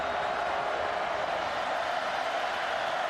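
Steady roar of a packed stadium crowd at a night college football game, Miami at Virginia Tech, a dense continuous wash of cheering with no break.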